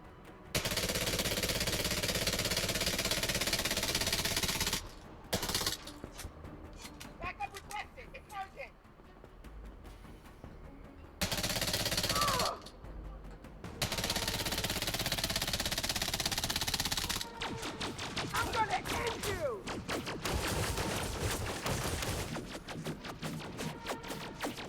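Rapid bursts of video-game gunfire crackle in long, loud stretches, broken by short gaps, with a player talking over the shooting.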